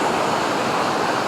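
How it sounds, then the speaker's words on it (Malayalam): A flooded hill-village river in Kodikuthi rushes past a damaged bridge during rain, a loud, dense, continuous roar of torrential water close by, with no voices. "വെള്ളത്തിൻ്റെ കുത്തൊഴുക്ക് കാണുന്ന തന്നെ പേടിയാവും ഇവിടെ നിൽക്കാൻ."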